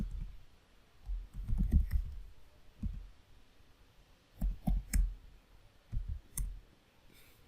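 Password being typed on a computer keyboard during a MySQL login in an Ubuntu terminal, heard as short bursts of soft key clicks in several clusters with pauses between, close and fairly quiet, no talking.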